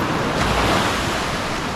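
Small ocean waves wash steadily against the shore, a continuous broadband rush of surf with some wind noise over the microphone and no voices.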